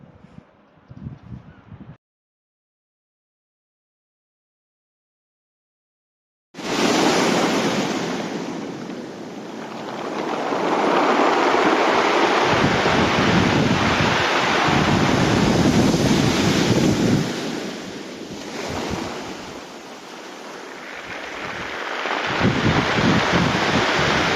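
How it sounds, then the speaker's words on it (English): Waves crash and wash continuously over a rocky Cornish shore, rolling rocks, with heavy wind rumble buffeting the microphone after a brief silent gap near the start. "I love the sound of crashing waves and rolling rocks."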